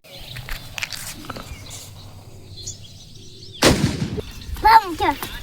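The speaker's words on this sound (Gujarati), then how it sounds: "આપણો ફટાકડો ફૂટી ગયો અત્યારમાં" A Diwali firecracker bursts with a single sharp, loud bang partway through, preceded by quieter rustling and faint voices, with a brief high whistling tone following the blast.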